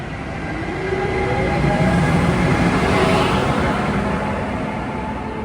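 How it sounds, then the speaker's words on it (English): Amtrak 148 train, Washington to Springfield, approaching on the line, a loud, broad rumbling roar of wheels and rails that swells and holds steady, close by. ".532 approaching is Amtrak 148 en route from Washington to Springfield."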